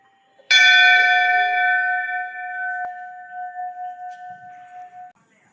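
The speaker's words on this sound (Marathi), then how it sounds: "खूप सुंदर असा आवाज ह्या घंट्याचा आहे." A temple bell struck once with a bright, loud metallic clang, its long ringing tone lasting several seconds and fading with gentle pulsing beats before cutting off.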